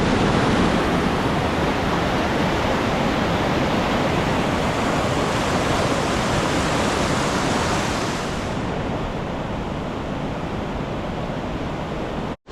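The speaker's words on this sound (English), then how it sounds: "Mine and Samuel's first river crossing" Rushing mountain river at a hiking crossing, a loud, steady broadband roar of churning water close by that fills the whole stretch and eases slightly toward the end, with no voices.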